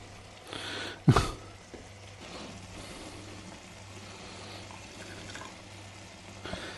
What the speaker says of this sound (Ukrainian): Тепер мені треба прибрати лишню воду.